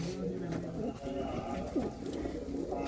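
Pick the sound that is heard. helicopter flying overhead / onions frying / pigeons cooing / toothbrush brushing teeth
pigeons cooing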